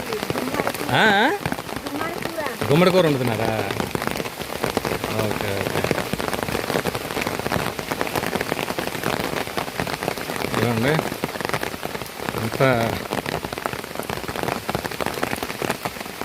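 Rain drums steadily on an umbrella in a tribal village, a dense constant patter close overhead, while several people talk intermittently beneath it.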